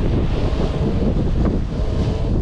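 Strong wind of about 18 knots roaring across a microphone on a sailboat in cold open water, a loud, continuous buffeting rush with surging gusts and sea wash beneath, no talking.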